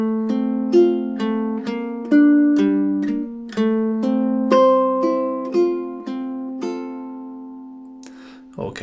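Ukulele playing a short classical study by Fernando Sor, Opus 60 no. 1: a steady run of cleanly plucked single notes and bass tones over about eight seconds, close and solo, ending with a brief handling noise.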